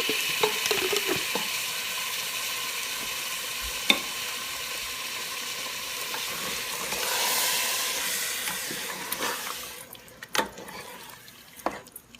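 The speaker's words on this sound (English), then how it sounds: "Now we add our tomato, grinded tomato, fresh tomato puree in here." Fresh tomato puree sizzling in a hot pan of beef curry: a steady loud fry and hiss with occasional spoon-on-pot clinks from stirring, thinning out toward the end.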